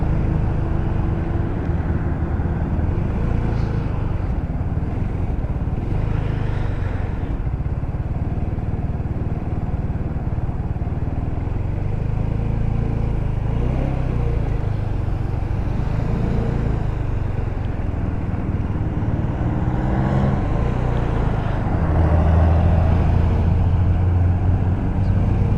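A GY6 150cc scooter engine with a newly fitted exhaust idles steadily and close, a continuous low rumble that holds without dying out for the whole stretch, with no voices.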